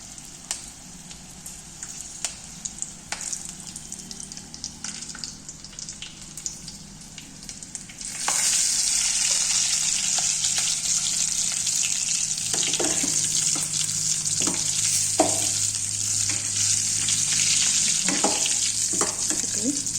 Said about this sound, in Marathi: चांगली लाल परतून घ्यायची. शिमला मिरचीची भाजी आहे.